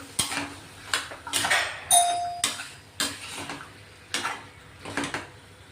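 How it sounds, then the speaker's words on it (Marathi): A spoon stirs and turns mixed vegetables with peas and spices in a pan, producing close, repeated metallic scrapes and clanks in a loose rhythm, roughly one every second, with a brief ringing tone. "मसाले चांगले परतून घ्यायचे आता चांगलं खालीवर करून घेऊया"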